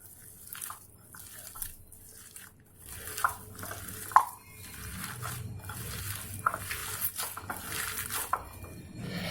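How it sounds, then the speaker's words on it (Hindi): Raw poha being stirred by hand with spices and salt in a bowl, a soft, close crunchy rustling with scattered clinks and scrapes against the bowl, continuing steadily without talk. "इसे अच्छी तरह से मिला लेंगे"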